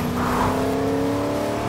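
An off-road car in the Fortnite video game drives with a steady engine drone and whir, even and moderately loud, with no talk.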